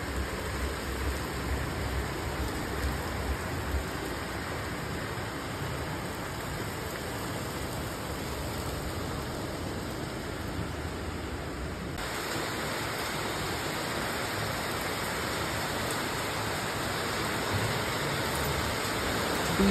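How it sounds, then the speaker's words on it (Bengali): Heavy rain pours down in a sudden downpour onto trees outdoors, a dense, steady rushing hiss that holds loud and unbroken throughout and swells slightly toward the end, with no voices. "বৃষ্টির টোপ দেখো কি প্রচুর স্পিডে একদম মানে এক ঝলক বৃষ্টি হচ্ছে"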